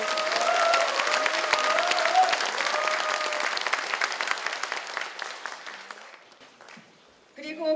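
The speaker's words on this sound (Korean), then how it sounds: "박수 한번 쳐주시죠." Audience applause at a Democratic Party rally of small business owners in Korea, steady dense clapping filling the hall for about six seconds, then thinning out, with a brief renewed burst at the end.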